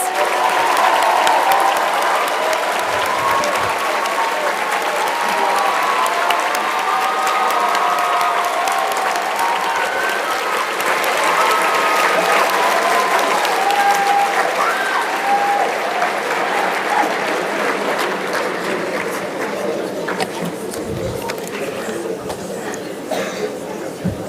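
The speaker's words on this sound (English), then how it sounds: "please stand up and let's give them a big round of applause" Loud, sustained applause fills a large conference-center hall at a national civics competition awards ceremony, a dense wash of clapping from a big crowd that carries on for over twenty seconds with chatter mixed in and fades slightly near the end.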